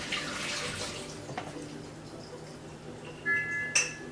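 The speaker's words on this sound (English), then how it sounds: "I'm actually gonna pour out my water" Water is poured out into a sink, running and splashing briefly, with a faint rushing stream and a couple of clinking taps near the end.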